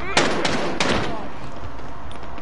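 Rapid bursts of gunfire from a shooting video game crackle in quick succession near the start, then fade into a steady background hum.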